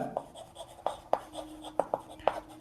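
Pen or pencil writing out a math answer for a class 5 lesson, heard as short, soft scratches and taps spaced irregularly over a quiet background, close and faint, with no speech.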